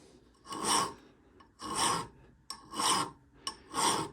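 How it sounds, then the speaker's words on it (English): A hand file cuts a deep pattern into a blade in four slow, rasping strokes, each a loud scraping burst separated by short pauses. "Start your file."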